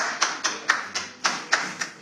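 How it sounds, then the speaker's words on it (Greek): People clap in a steady, evenly spaced beat, about eight close, crisp claps backstage at a television show, with no talking. "Χειροκρότα ρε."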